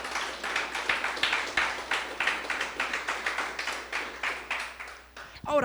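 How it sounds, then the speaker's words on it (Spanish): Church congregation clapping for the Lord during a Spanish-language sermon, a steady rippling applause of many hands lasting several seconds, fairly close and even, ending with a brief clatter. "Démosle ese aplauso al Señor."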